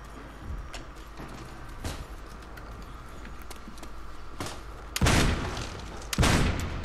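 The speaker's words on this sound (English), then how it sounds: "they just shot that zombie's arm and it just went snapped off" Gunfire from shooting zombies in Call of Duty: World at War Zombies: scattered light shots and thuds give way to two loud, heavier bursts of firing near the end, over a steady low background rumble.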